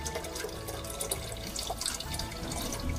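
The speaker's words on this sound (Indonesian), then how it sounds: "Yang pertama kita isi dulu airnya ya. Ini air dari air bersih ya, kita masukkan ke sini, kita isi dulu." Clean water pours steadily into the water tank of a coffee machine, a continuous close splashing trickle without pause and with no speech over it.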